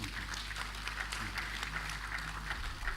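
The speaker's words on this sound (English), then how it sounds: "can I ask us to please give him a round of applause?" Audience applause for the author at a public book presentation on cyber politics, a sustained even round of many hands clapping in a hall, moderately loud with no pauses.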